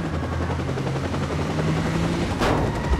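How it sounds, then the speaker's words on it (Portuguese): Helicopter in the video game Watch Dogs during a police chase, a steady rotor drone throughout with a brief whoosh near the end, moderately loud behind the action. "Ah, o helicóptero atrás."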